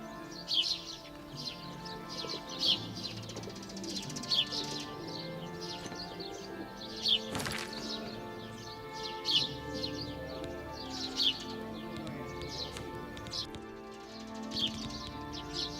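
Birdsong played through a background audio system, faint repeated chirps and tweets at a regular pace over a soft, steady hum, with no talk.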